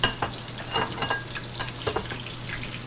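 Breaded turkey cutlets fry in a pan with a steady close sizzle, while irregular clinks and scrapes of utensils and pans break in over the hiss.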